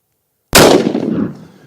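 A single sharp, loud gunshot from a Smith & Wesson bolt-action rifle, an abrupt crack after silence followed by a decaying outdoor echo.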